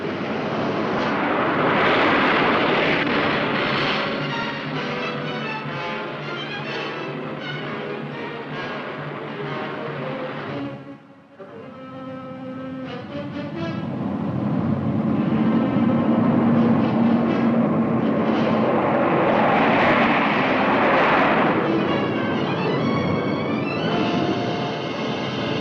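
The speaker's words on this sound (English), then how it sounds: "force is the B-52, the Stratofortress" Engines of a B-52 Stratofortress bomber give a loud, continuous, broadband roar that dips briefly around the middle before swelling back to full strength, sounding close and steady with no voices.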